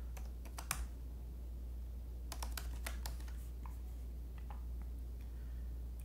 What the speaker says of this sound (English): now I'm going to type in my Gmail password